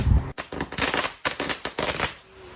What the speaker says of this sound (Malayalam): ഒരു മാലപ്പടക്കം പൊട്ടിക്കും